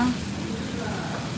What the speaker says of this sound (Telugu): వాన పడుతుంది